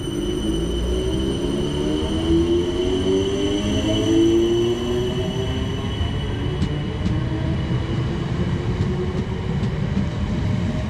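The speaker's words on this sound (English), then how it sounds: "Departing now is the 1026 South Western Railway service back to London Waterloo via Teddington and Kingston" A South Western Railway train, units 455913 and 455713, departs North Sheen station, an island platform, with a loud steady rumble of wheels and motors, rising whining tones as it accelerates and a few sharp clicks over rail joints.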